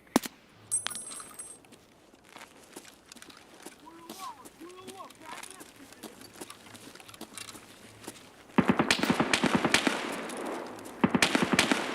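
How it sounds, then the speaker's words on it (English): A mounted machine gun fires in Escape from Tarkov, heard as rapid, loud bursts of banging shots near the end after a quieter stretch of game ambience with faint voice sounds. "That must be on the mounted machine gun."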